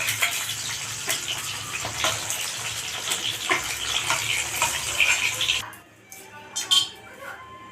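Eggs fry in hot oil in a pan as part of making biryani, with a busy, crackling sizzle. The sizzle drops away sharply near the end, leaving only a few quieter spits.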